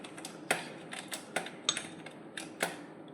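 Keys clack on a computer keyboard during Typing Master practice, a run of sharp, uneven taps with a few louder strikes, close and dry with no talking.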